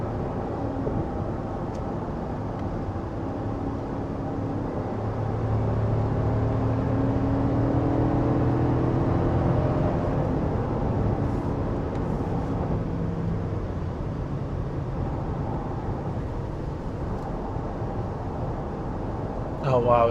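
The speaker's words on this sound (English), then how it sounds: "I'm just going to shut up for one moment here so I can have you listen to the vehicle" A 2026 GMC Yukon Denali heard from the cabin while driving, with a steady low road and engine rumble that swells briefly mid-drive and settles back, continuous and moderately quiet.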